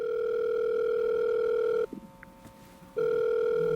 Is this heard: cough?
no